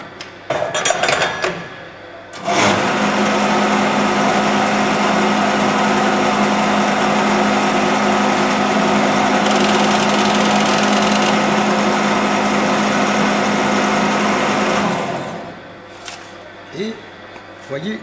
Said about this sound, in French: qu'on a dû développer une machine qui s'appelle traductrice